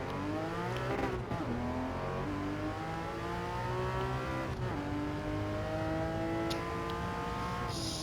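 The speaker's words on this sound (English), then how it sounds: "I like this engine more. I like the way it sounds more." A Porsche 718 Cayman GT4 is driven in the Gran Turismo 7 racing game, its engine revving loud and continuous through rising and falling gear changes with no talk.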